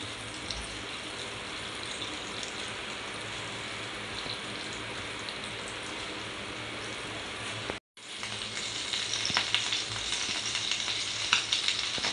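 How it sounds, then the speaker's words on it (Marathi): Bangda mackerel fish fry in hot oil in a pan, a steady dense sizzle that carries on throughout, briefly cut off for a moment and then returning slightly louder with scattered crackles. "चला आता आपण बांगडे तेलात सोडूया."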